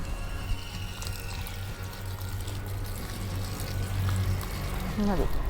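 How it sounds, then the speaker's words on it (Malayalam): Water is poured onto the soil at the base of a young yellow rambutan sapling, giving a steady splashing trickle that runs for several seconds. A person talks over the sound. "എന്നിട്ട് നമുക്ക് വെള്ളം ഒഴിച്ചു കൊടുക്കാം"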